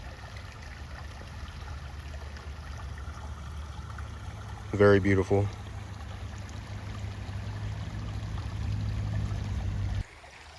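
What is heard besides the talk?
flowing water of a clear stream in Oklahoma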